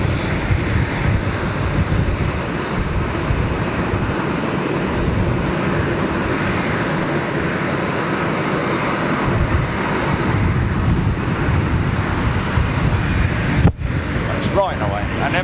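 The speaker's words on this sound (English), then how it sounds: "taxiing the aircraft in." A British Airways aircraft taxiing in at the airport during centenary celebrations gives a steady broad engine roar mixed with wind noise, with someone speaking over it throughout.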